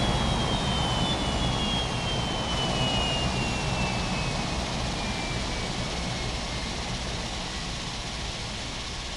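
Jet airliner engines drone steadily at an airport on the runway 32 side. The loud, continuous roar fades slightly toward the end, and a faint high whine runs through it.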